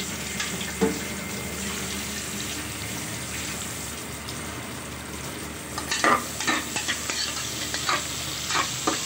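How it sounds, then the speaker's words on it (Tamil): Chicken gravy sizzles steadily in a pan, with a ladle scraping and stirring through it in a few scattered bursts, louder toward the end. Water runs briefly in the background, and no one speaks. "கரண்டி வச்சு வதக்குறாங்க."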